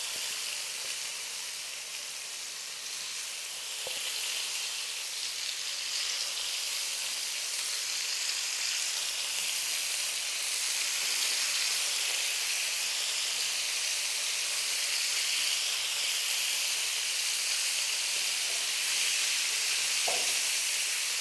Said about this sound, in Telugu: ఈ ఆయిల్ హీట్ అయిన తర్వాత మ్యారినేట్ చేసి పెట్టుకున్న చేప ముక్కలు వేసి 4 మినిట్స్ పాటు వేయించుకోవాలి.